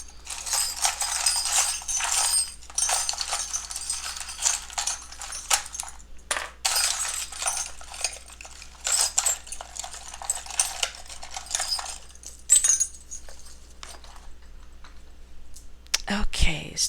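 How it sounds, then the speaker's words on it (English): Small metal charms clink and rattle as they are shuffled by hand in bursts of jingling clatter, with brief pauses between handfuls. "I just shuffle, shuffle, shuffle until I take out however many handfuls until I take out all of your charms"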